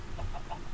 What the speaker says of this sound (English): somebody just popped out a chicken